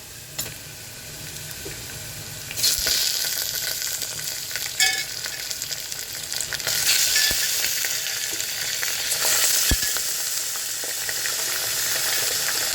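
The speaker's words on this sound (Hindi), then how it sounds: "मटन डालने के बाद हम इसको भून लेंगे" Mutton pieces sizzling and frying in a pan with browned onions, a steady loud hiss with stirring scrapes and a few sharp spatters, close up with no talking.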